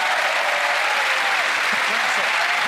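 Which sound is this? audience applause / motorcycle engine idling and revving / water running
audience applause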